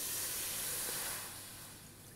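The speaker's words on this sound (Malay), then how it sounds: "Okey, terus letak air." Water poured into an electric rice cooker pot, a broad hissing splash that is loud at first and then tapers off slightly, close with no talking.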